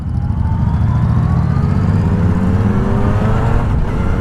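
A Yamaha Niken three-wheeled motorcycle with the MT-09 engine is ridden, its engine droning loudly and steadily with rising revs under heavy wind rush, recorded close on the bike.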